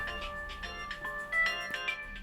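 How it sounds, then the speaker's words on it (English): A tinny electronic ringtone melody repeats in short bright notes, fairly close and steady, with no voices. "your phone appears to be ringing"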